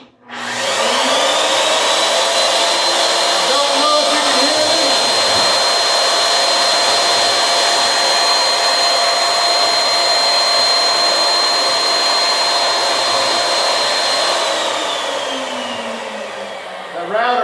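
A loud, steady whine of a panel router cutting dadoes in wooden cabinet ends, running continuously for over ten seconds, spinning up at the start and winding down near the end.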